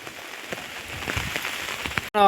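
Light rain drips off babul tree leaves in a village, a soft, close patter of scattered drops over a faint wet hiss, cut off abruptly at the end by a louder burst of another sound.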